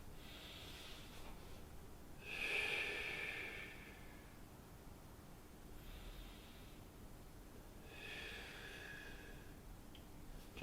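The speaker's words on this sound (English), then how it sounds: "Breathing out." Slow exhalation during a yoga neck stretch done in bed, heard as soft, airy breaths through the nose, one longer breath early and fainter ones later, close and quiet with no talking.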